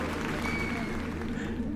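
Crowd cheering and applause rise from below at an Aztec temple sacrifice in a Doctor Who scene, a steady wash of clapping and voices under narration.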